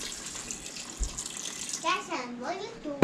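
Water runs and splashes steadily into a pan, a soft broadband rush, with a voice speaking briefly near the end.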